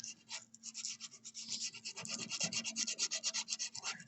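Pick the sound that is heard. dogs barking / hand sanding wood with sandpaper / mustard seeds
hand sanding wood with sandpaper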